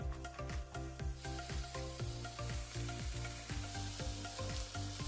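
Paprika and cabbage sizzle in a pan over medium-low heat, a steady crackling fry with repeated clinks and scrapes of stirring, close and continuous.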